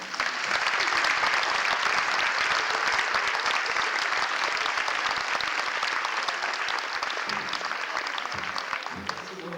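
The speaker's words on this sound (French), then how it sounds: "on peut faire un gros applaudissement pour Dominique Némé" Loud, sustained audience applause for a performer at the end of a stage show, dense clapping holding steady for several seconds before thinning slightly, with a voice briefly emerging near the close.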